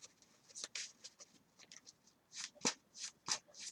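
A deck of Yu-Gi-Oh trading cards for a Thunder Dragon Lightsworn deck being shuffled by hand, giving soft, quick papery riffles and flicks in an irregular rhythm, close and quiet with no talking.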